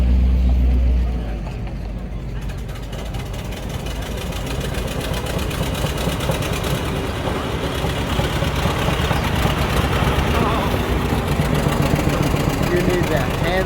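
A Mack truck rolls onto a car show field at the AACA Hershey show, its diesel engine giving a loud, steady low rumble and knock that runs throughout, with people talking over it.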